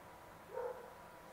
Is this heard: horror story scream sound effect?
no